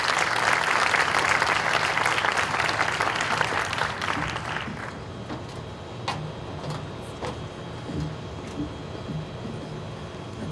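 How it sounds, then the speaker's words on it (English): Audience applause at a Fullerton College Humanities building ribbon cutting ceremony, steady dense clapping that stays loud for several seconds, then thins to scattered claps over room noise. "Let's give Rod a round of applause."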